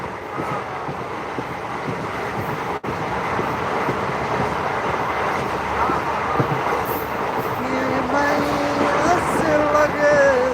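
Passenger train rolling from Bajpatti toward Muzaffarpur via Sitamarhi and Dumra, a steady rumble of wheels and carriage with wind noise, and tonal squeals or a horn rising near the end.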